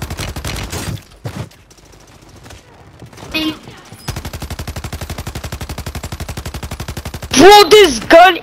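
Rapid automatic gunfire in Call of Duty Warzone, a long sustained burst of evenly spaced shots after scattered single bangs, with voices talking briefly near the end.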